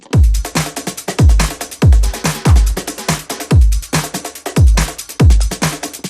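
Heavy sampled kick drum stacked with fat kicks, booming low thumps landing in a steady four-on-the-floor pulse under bright busy percussion, loud and close with no voices.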